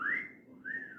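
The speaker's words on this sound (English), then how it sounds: "the slow, flirty whistle" A slow, flirty two-part whistle, a rising-falling tone followed after a short gap by a second, fainter swoop, heard alone and close.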